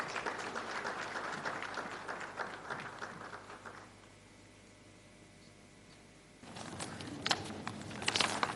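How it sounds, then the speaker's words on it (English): Audience applause welcoming the President of Ghana at a formal event, a sustained crowd clapping that drops to a quieter hum midway, then returns with louder, sharper claps near the end. "Please let's welcome the President with a round of applause."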